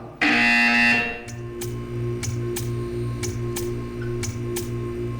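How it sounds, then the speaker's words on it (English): A buzzer in the video game Portal 2 gives one loud, harsh electronic blast lasting about a second, followed by a steady low hum broken by a series of sharp ticking clicks. "You will hear a buzzer."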